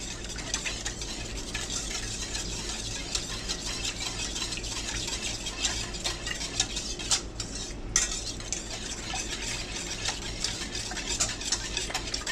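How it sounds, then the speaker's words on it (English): Stirring ingredients in a pot with bean flour soon to be added: a steady scraping and clinking of utensil against cookware, continuous and fairly close for the whole stretch, with no voices. "we're going to give it another stir"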